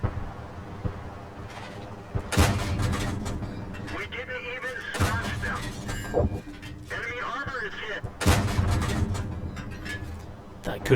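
Tank cannon shots in World of Tanks from an AC1 Sentinel: several loud, sharp broadband blasts with booming tails, roughly every two to three seconds, over a steady low engine rumble, with someone talking throughout.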